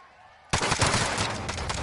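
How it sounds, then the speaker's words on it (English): Video game gunfire erupts abruptly after a quiet half second, a dense, loud burst of rapid shots rattling continuously to the end. "Taking direct fire."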